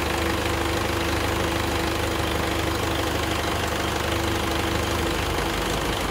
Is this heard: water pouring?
no